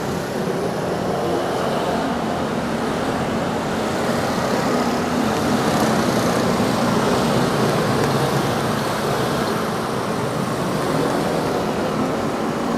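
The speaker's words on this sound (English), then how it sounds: "These are all motorized scooters. And many of them have the baffles taken out of the exhaust system. So they're super loud" A constant roar of busy road traffic made up of motor scooters, many with exhaust baffles removed, engines droning and buzzing together in a dense, loud wash with no pauses.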